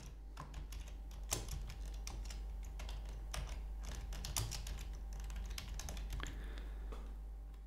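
Quick, uneven keystrokes on a computer keyboard while a question is written into an online poll form. The clicks come in close, crisp bursts over a quiet background, with no talking.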